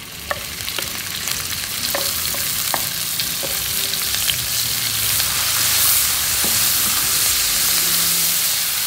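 Small anchovies (dried teri) sizzle and crackle steadily in about 50 ml of hot oil, with scattered spatters and occasional scraping stirs, close up.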